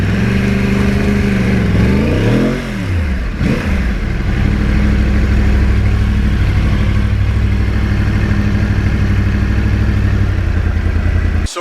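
A 2009 Yamaha R1 crossplane motorcycle revs up and down while riding, its deep, loud engine note rising and falling early, then holding a sustained, steady drone at speed.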